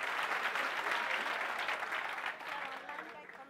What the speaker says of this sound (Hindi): एक बार जोरदार ताली दिया जाए जल्दी से